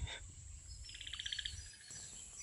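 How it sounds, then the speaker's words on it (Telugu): A koel and sparrows chirp and call in a quick run of bright repeated notes, fairly near, over a soft outdoor village background with a second burst of calls toward the end. "కోకిల మరి పిచ్చుకలు అరుస్తున్న సౌండ్ అయితే ఇది."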